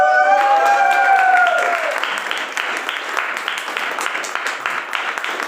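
An audience breaks into lively applause, dense clapping that holds steady and close. Tonal sounds ring out over the clapping at first, then fade, leaving the applause on its own.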